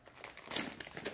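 A large plastic bag holding about 500 craft pendants crinkles and rustles close up in a brief, continuous burst of crackly handling.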